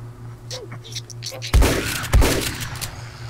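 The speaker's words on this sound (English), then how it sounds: "She's shooting." Video game gunfire: two loud, sharp shots ring out a moment apart, each trailing a brief echoing tail, after quieter scattered pops and a low steady hum.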